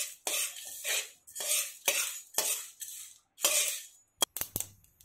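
A spatula scrapes and stirs moong, chana and toor dals with spices dry-roasting in a pan for masala tomato rasam. About five steady rhythmic strokes are close and clear, followed by a few quick metallic clinks.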